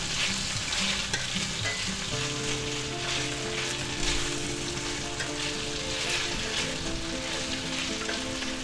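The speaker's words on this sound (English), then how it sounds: "now let's add the peppers and onions. Put them in there" Peppers and onions sizzle loudly as they are stir-fried with beef, broccoli and mushrooms in a hot pan, a steady crackling hiss with occasional scraping stirs throughout and no talking.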